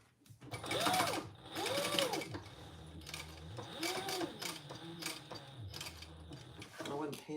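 A sewing machine stitching the corner of a laptop bag in several bursts of rapid mechanical whirring, close and loud, with short pauses between runs and a voice talking in between.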